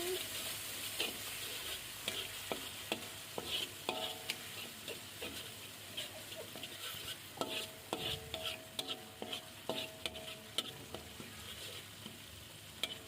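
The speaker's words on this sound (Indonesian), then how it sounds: "Terus kita tumis bumbu yang udah kita ulek tadi. Kita tumis sampai baunya harum." Ground spice paste, pounded by hand, sautéing in hot oil for chicken-bone seblak, a quiet sizzle punctuated by frequent sharp spatula scrapes and clinks against the pan, close and rhythmic.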